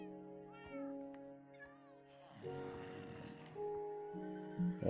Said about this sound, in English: There's cats.